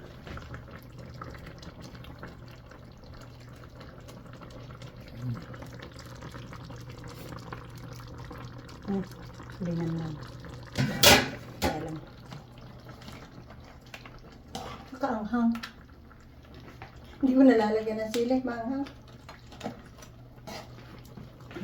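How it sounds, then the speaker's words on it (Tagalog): Water bubbles and gurgles in a pot of boiling snow crab and Dungeness crab, with quiet background hum, broken by a few louder clinks and splashes. "kumukulo na."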